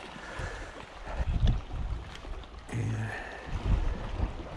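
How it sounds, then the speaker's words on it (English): Steady wind gusting over shallow, clear water near the shore while fishing for bass, a soft, breathy rush that swells and fades with faint water movement and no voices. "The wind's picked up a little bit."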